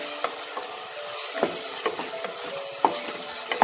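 A spoon stirs turmeric and chili powder into paneer pulao in a pan, soft rhythmic scrapes over a low sizzle, close and fairly quiet.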